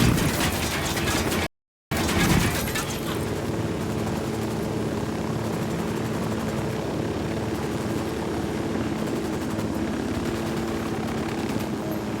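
A helicopter in the video game Ghost Recon Wildlands, heard as a continuous mechanical rotor thrum and whine that holds steady and fairly loud throughout, with a brief dropout near the start.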